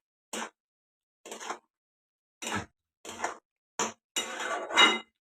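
A spoon scraping and clinking in a pan as shira, a semolina sweet cooked in ghee, is stirred, with six short separate bursts of metal-on-metal scraping and quiet pauses between them.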